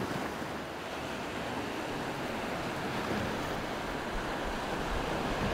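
Sea waves surge in a steady, broad wash, with wind buffeting close to the microphone and no voices throughout.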